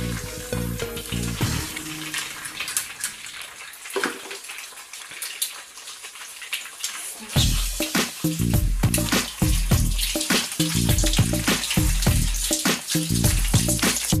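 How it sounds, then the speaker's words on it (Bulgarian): A slice of bread and an egg fry in a preheated pan, giving a steady, close sizzle throughout with music playing underneath. "в предварително нагрев тиган слагаме филията."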